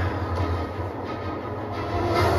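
A train in the video game Batman: Arkham City rumbles steadily with a low, continuous droning hum and faint rail clatter, loud and constant throughout without speech.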